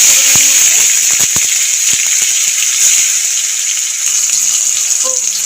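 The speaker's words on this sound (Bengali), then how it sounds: "ফোড়নটা ভাজা হয়ে গেছে, এবার কাটা টমেটোটা দিয়ে দেবো" Chopped tomatoes frying in hot oil with cumin, cloves, cardamom and cinnamon for a turnip curry, a steady loud sizzle with scattered clicks and utensil knocks throughout.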